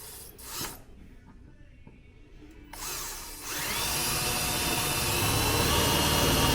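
After a few seconds of quiet handling noises, a power drill with a sharp bit whirs up and grinds steadily through material while boring a hole, loud and close.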